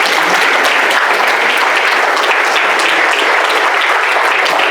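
An audience applauds at a talk event on crime and drug prevention, a dense, steady roar of many hands clapping that stays loud and close for the whole stretch, with no voices over it.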